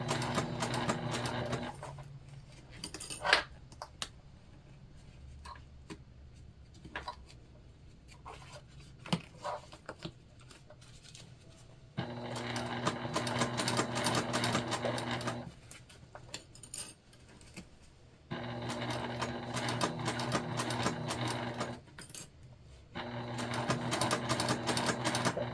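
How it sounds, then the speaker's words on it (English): A sewing machine stitches a modified Lindsport mini backpack in several steady bursts of rapid mechanical chatter separated by quiet pauses with small handling clicks. "Okay, so we're going to sew with it open."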